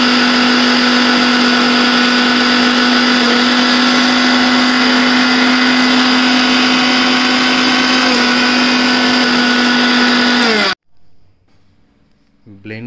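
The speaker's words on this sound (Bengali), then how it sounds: "সব পুষ্টিকর খাবার দিয়ে তৈরি এ মিশ্রণ ব্লেন্ডারে ভালোভাবে পেষে নিয়ে" A blender grinds a nutritious mixture of sattu ingredients, running loud and steady with a strong motor whine for about ten seconds before cutting off abruptly, followed by faint quiet handling sounds.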